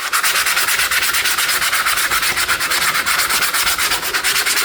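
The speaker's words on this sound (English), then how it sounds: "you're not going to want to watch me sand all this off" Painted wood being sanded by hand, a steady, loud, rapid back-and-forth rasping that repeats in an even rhythm throughout, close up with no voices.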